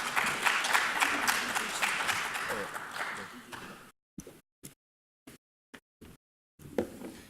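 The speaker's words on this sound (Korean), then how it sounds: "박수 부탁드리겠습니다." Applause for a guest introduced at the International Forum on One Korea in Washington, D.C., a steady burst of clapping from the audience that cuts off into silence broken by a few scattered claps.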